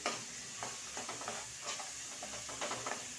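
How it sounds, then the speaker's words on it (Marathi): Bamboo shoot curry with onion-coconut paste being sautéed in a pan over medium heat: a soft, steady sizzle broken by light, irregular scraping strokes as the mixture is stirred. "आता यामध्ये मी दोन मोठे चमचे वाटण घातलेलं आहे आता परतवून घेऊया"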